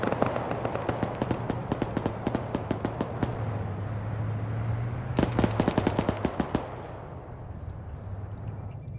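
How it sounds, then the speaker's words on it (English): Rapid gunshots in a 1970s Cold War military video game crackle in quick bursts, sharp and fairly distant, with a second volley after a short lull over a low droning hum. "Be advised, I'm hearing shots southwest."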